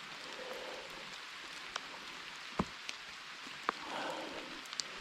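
Rain patters steadily on surfaces during a horse ride in the Welsh hills near Tregaron, with scattered louder drops and taps landing close by and no voices.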